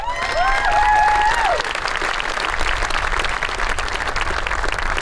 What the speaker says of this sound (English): that's worthy of a round of applause right there